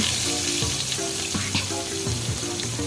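Tempeh dipped in a garlic marinade fries in oil in a pan, a loud, steady sizzle with a few soft stirring knocks, close up.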